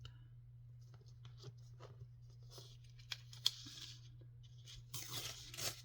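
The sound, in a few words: ripping paper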